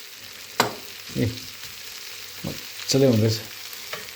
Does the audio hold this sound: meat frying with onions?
yes